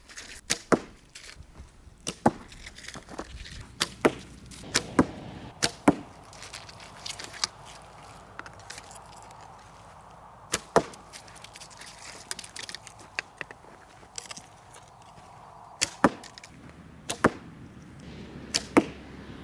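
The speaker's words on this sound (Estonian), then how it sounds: "see on siis põhimõtteliselt Türgi hobuse vibu, et sellega saab hobuse pealt ka lasta" Arrows shot from a Turkish horse bow with wide-tipped quick-shooting arrows, outdoors. Sharp, dry snaps and thwacks come irregularly, singly and in quick pairs, over about twenty seconds against a faint, quiet background.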